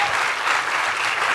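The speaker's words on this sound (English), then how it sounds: "I want to hear a louder clap on that." A studio audience claps loudly and densely in a brief, even burst, the sound bright and close with no speech over it.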